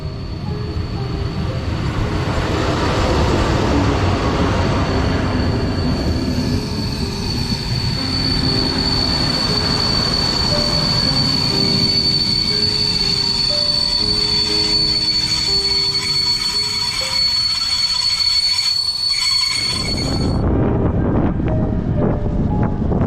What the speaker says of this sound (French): C'est un train de la SNCF.